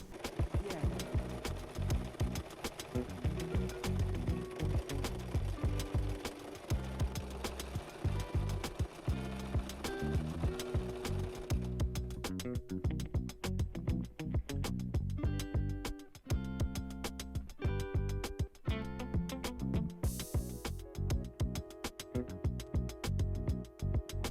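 A sewing machine runs steadily while stitching a folded double hem on a blouse, with rapid needle clatter and motor hum continuing in bursts throughout, close and fairly loud.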